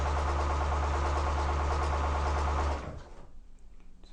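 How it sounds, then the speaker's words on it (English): A sewing machine stitches a quilt strip with a 1/4 inch seam, a steady loud mechanical whir with rapid needle clatter that runs for nearly three seconds and then stops, leaving faint room noise. "So just sew your strip the whole way through to the end."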